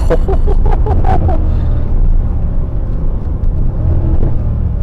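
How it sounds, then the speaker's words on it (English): A BMW M3's straight-piped exhaust rumbles loudly with a deep, throaty drone, a few quick engine pulses at first, then a steady heavy roar. "His current car, the exhaust is fucking loud."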